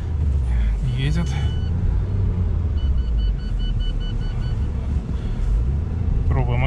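Lada Niva Travel engine driving through snow in low second gear, a steady loud low rumble throughout with brief mechanical whines, while someone talks over it.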